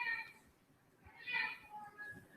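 A pet cat meows faintly a couple of times in a home kitchen during a matcha peanut butter cake baking class, heard under and between quiet talking.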